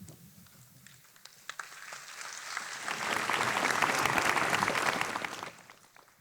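Awards-ceremony audience applauds, the clapping starting thin and swelling into dense, sustained applause across the room before tapering off near the end.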